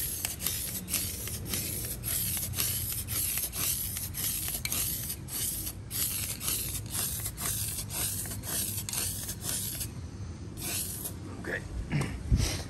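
Rustoleum Hammered spray paint hisses steadily from an aerosol can onto a truck's front bumper, a continuous close spray with brief pauses and light rubbing noises.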